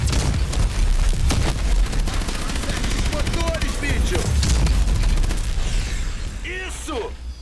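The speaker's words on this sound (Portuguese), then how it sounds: "Continue atirando" Rapid, dense gunfire and booming blasts from a firefight in Call of Duty Advanced Warfare, loud and sustained throughout with clattering bursts and background game voices.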